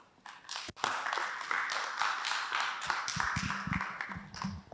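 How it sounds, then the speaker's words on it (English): A conference audience gives a round of applause after an opening session on small and medium traders, with steady, dense clapping from a medium distance lasting several seconds and no talk over it. "I don't think those round of applause are enough for a well-thought-through opening"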